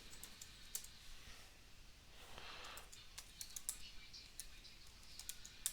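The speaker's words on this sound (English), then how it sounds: "And then I need to type in my JSON." Fingers typing JSON on a computer keyboard, faint irregular clicks of keys at close range in a quiet room, with a soft breath in the middle.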